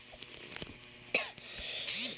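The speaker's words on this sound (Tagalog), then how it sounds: "Sorry guys, may ubo ako." A person coughs once, a sharp close burst followed by a short throat-clearing rasp, with faint background noise around it.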